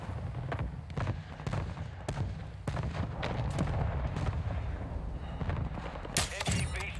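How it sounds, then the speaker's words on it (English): Heavy explosive blasts and crackling gunfire from a hostile cruise missile strike in Call of Duty, a loud, dense barrage of repeated impacts that continues throughout with a sharper burst near the end. "Hostile cruise missile launched."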